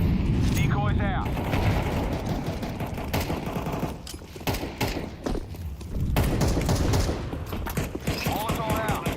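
Sustained rapid gunfire bursts from a decoy grenade in the Counter-Strike game, loud and dense, with brief pauses and game effects mixed in, while a voice talks over it.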